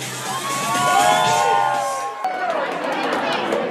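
A crowd at a local beauty pageant screams and cheers loudly, a dense sustained roar of whoops, shouts and children's voices that continues throughout, with brief overlapping chatter.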